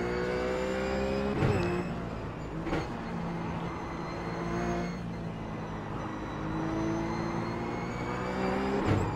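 RUF race car engine in iRacing at Infineon Raceway Sonoma, a loud sustained drone rising and falling through gear changes and revs, with brief sharper shifts near the start, middle and end, no talk.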